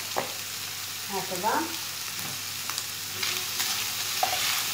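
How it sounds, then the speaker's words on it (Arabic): Onion frying in a pan for mini quiches, with soft stirring scrapes and a steady low sizzle throughout, fairly close; a brief voice speaks once near the start. "سأقلل على درجة الحرارة وأضيف البصل."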